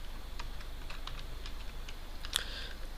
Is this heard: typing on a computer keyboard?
yes